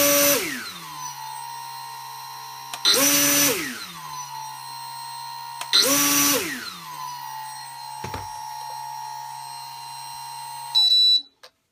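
Drone motors at max throttle grinding from an ESC sync issue on a Pixhawk setup, repeated loud whining surges that spin up and settle into a steady high tone, three bursts close by, no talking.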